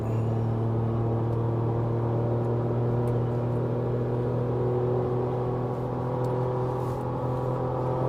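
A Ford Ranger Raptor off-road truck drives along, its engine holding a steady low rumble with constant road and tyre noise, close and continuous with no voices.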